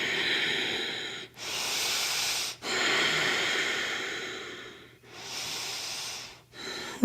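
Slow, deep breaths drawn in and pushed out through the nose during a held yoga pose in a studio, four long airy exhalations close to the microphone with short pauses between, no talking.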